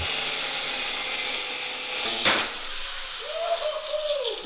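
An angle grinder cutting a car's coil suspension spring while it is still mounted on the shock absorber, giving a loud, steady high-pitched whine. A sharp crack comes midway, then the tone drops and the disc winds down.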